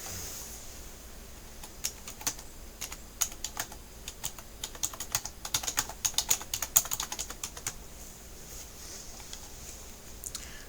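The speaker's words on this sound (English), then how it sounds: "we'll just type it in" Quiet computer keyboard typing: scattered keystrokes that quicken into a brisk burst mid-way, then trail off, fairly close over low room noise.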